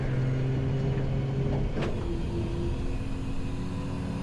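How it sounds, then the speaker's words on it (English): Road traffic passes on a Texas roadside in a steady, moderately distant rumble of cars, with one vehicle swishing by more clearly near the middle and no talking. "Thankfully, right now there's not a bunch of traffic, but there's some."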